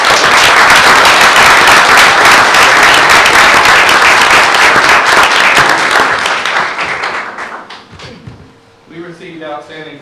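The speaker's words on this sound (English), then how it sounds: "So let's give them a round of applause." Loud, dense audience applause fills a board meeting room, steady for about six seconds before thinning out, with a few voices talking as it fades.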